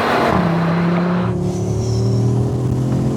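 A car braking hard during a street run, engine note dropping steadily under deceleration, heard close and loud with no voices.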